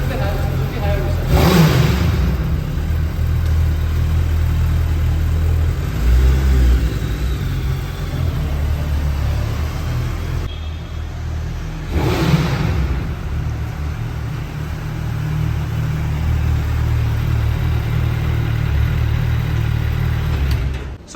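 Suzuki Hayabusa motorcycle engine running steadily during a short ride, a loud continuous low rumble with two brief swells of revving, heard alone without talk.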